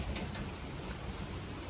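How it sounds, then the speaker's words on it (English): Steady rain pours down by the Wisconsin River in spring, a dense, even hiss of drops with no break and no voices. "now it's raining again"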